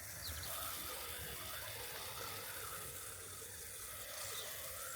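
Water is poured onto dry, cracked soil, giving a faint, steady splashing trickle that runs evenly for a few seconds with no talking.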